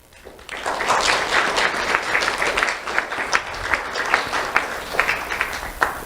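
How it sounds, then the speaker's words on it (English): Audience at the Do The Right Thing Awards applauding parents, grandparents and family, clapping swelling quickly from quiet into a steady, lively round with scattered sharper claps. "please give them a round of applause"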